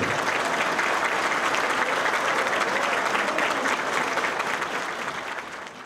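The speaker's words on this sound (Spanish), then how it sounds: "un gran aplauso para doña Emma Balaguer" Sustained applause from a large audience at a Reformist party congress, dense and steady throughout before easing slightly at the very end.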